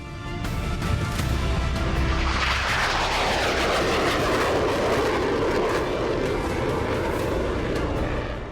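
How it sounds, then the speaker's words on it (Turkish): Turkish Bayraktar TB3, Kızılelma and Akıncı drones on test flights, a steady loud engine roar that swells and passes overhead with a sweeping doppler shift, continuous for several seconds with no talking. "Bayraktar TB3, Bayraktar Kızıl Elma ve Bayraktar Akıncı test uçuşlarına tabi tutuldu."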